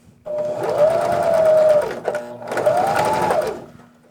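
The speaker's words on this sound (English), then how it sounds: "Everything has probably gone wrong while I've sewn this" A sewing machine stitches a hat in two sustained bursts of loud, fast, whirring rhythm, separated by a short pause, close up.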